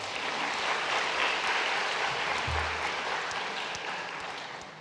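A church congregation applauds to welcome the senior pastor's visiting family during a Sunday service, a steady broadband wash of many hands clapping that stays even throughout and eases slightly toward the end.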